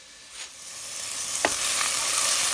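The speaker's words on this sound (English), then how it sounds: "So to my onions which are sauteing just a bit, I've added a teaspoon of ginger" Onions with a teaspoon of ginger sauté in a pan for rice and beans, a loud, steady sizzle that grows fuller, with a couple of brief scrapes or stirs.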